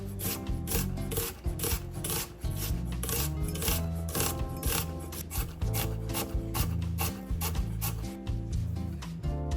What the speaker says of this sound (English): Here I have onion, spring onion, pepper and coriander leaf. Chop them finely.